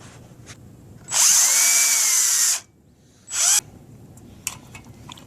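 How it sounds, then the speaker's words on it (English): A power drill driving a magnetic bit through a light fixture, two loud whirring bursts, the first about one and a half seconds long and the second shorter, with quiet pauses around them. "It's just like using a drill bit, and it'll cut right through it."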